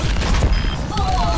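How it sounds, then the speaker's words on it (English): Rocket barrage in the hero shooter Overwatch, a quick rumbling cluster of booming explosions and crackling impacts, loud and close, with game effects ringing over it. "Rocket barrage incoming."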